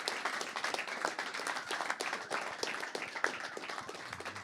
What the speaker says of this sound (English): let's make a round of applause for Brother LaRussell in the house.